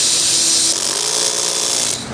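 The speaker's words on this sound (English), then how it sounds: "So I imagine you got that drill torque real low for a situation like this?" Power drill with torque set low driving self-tapping screws into the body of a new Nissan Z to mount carbon aero parts, a sustained close whirring with a clicking clutch that cuts and restarts partway through.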